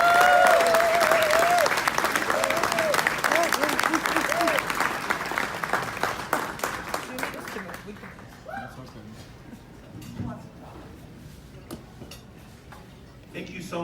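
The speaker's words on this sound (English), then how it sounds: "Please, another round of applause." Audience applause at an award ceremony, loud sustained clapping from a crowd that gradually thins and fades toward the end, with some voices and chatter mixed in.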